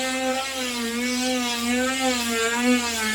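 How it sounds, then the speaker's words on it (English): A Dremel rotary tool fitted with a sanding drum whines steadily as it enlarges a hole in an RV drawer, a close, continuous high-pitched whir with a slightly wavering pitch. "I'm just going to use a Dremel tool and a sanding drum"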